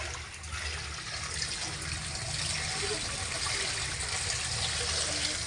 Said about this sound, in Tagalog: Nasa loob na yung tubig.